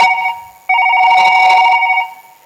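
A telephone rings loudly and close, in two electronic bursts separated by a short gap, the second longer, with no talk over it.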